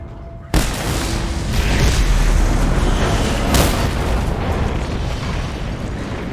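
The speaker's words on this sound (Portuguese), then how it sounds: "Bastão explosivo. Mira e atira." A loud, booming explosive-stick blast in a video game: one sharp burst that rolls into a long, dense rumble and stays heavy to the end, with a second crack partway through.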